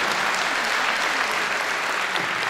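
An audience applauds at a cheque presentation for the "Une rose, un espoir" charity and the Ligue contre le cancer, with dense, steady clapping from a roomful of people, loud and continuous throughout with no talk.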